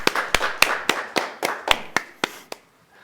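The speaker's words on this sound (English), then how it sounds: "Clap, keep clapping. Clap more, louder." Audience clapping at a Valentine's Day retreat: about ten sharp, well-separated claps in a fairly even rhythm, close and clear, fading slightly toward the end before stopping.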